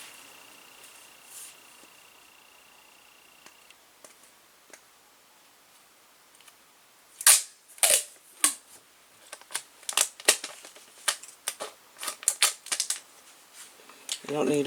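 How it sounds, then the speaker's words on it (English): Clear packing tape is pulled and pressed down while making a miniature dollhouse 3-ring binder, giving a burst of close, sharp crackles and ticks after a quiet stretch, ending in a louder rip. "So I'm using some clear packing tape."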